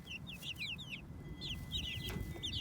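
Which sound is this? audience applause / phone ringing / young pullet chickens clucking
young pullet chickens clucking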